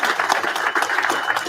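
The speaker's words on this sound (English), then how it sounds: "Give yourself a round of applause," A burst of steady clapping from a small group in a postgame locker room after an NFL Buffalo Bills vs. New Orleans Saints game, loud and close throughout.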